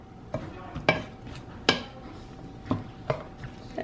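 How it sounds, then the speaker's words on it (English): Mushrooms are stirred in oil and butter in a frying pan, giving a handful of soft, scraping utensil strokes at irregular intervals over a faint, steady background hum, fairly close and with no talking. "Coat all of the mushrooms with the oil and the butter."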